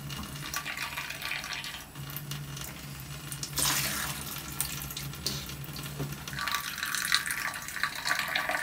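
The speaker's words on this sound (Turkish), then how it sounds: "Su mu dolduruyorsun?" Water runs steadily from a kitchen tap into a sink while dishes and kitchen items are washed, a continuous close splashing hiss that swells and shifts as items move under the stream, with no talk over it.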